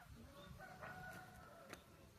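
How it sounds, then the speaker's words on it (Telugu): Chickens at a village home cluck and call faintly in the distance, a few short warbling calls against quiet outdoor background noise. "ఇవి కోళ్ళు ఫ్రెండ్స్"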